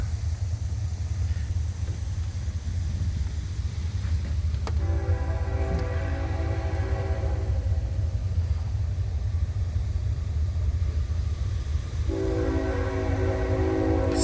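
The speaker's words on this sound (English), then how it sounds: "Excuse the train, it does occasionally happen." A train rumbles past nearby, low and continuous, with its horn sounding twice in long blasts; no one speaks.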